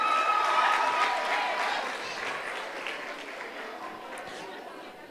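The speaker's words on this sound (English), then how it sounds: "Round of applause." A crowd applauds steadily at a primary school awards ceremony, dense clapping with some chatter mixed in, gradually easing slightly in volume.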